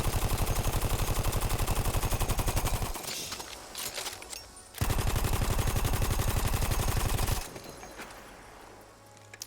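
Parabellum machine gun in Battlefield 1 fired in two long, loud full-auto bursts of rapid evenly spaced shots, separated by a short pause with echoing tail, ending in fading reverberation.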